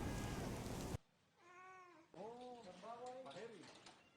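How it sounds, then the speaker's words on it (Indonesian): A cat with an arrow stuck in its neck meows repeatedly, several drawn-out, wavering cries close by after a brief burst of loud noise, with faint background hiss. "seekor kucing yang tertancap busur di lehernya."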